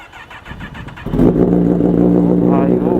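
A 2024 Kawasaki ZX10R fitted with a full titanium exhaust starts up after a second of quiet and settles into a loud, close, steady throaty idle with a slight rise in revs near the end.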